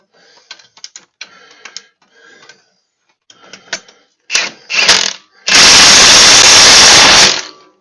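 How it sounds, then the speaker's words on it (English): A handheld impact wrench tightens the electric clutch anchor on a John Deere 652R Stander mower, giving a loud sustained burst of hammering after some near mechanical clicks and rattles of a brief earlier pulse. "I can grab my impact."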